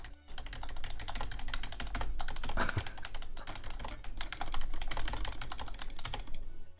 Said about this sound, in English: so if I'm playing, look, you guys hear my keyboard?